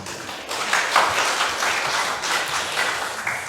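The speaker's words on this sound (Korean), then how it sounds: "박수 치실 거면 제대로 하면" A church congregation at a Sunday service breaks into sustained applause, many hands clapping densely and steadily at a moderate level for several seconds.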